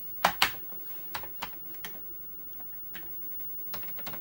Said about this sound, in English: I love those keys, and the sound they make is just so cool.